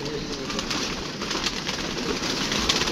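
Pigeons coo faintly amid a dense, steady wash of background noise, with soft repeated calls and no talking.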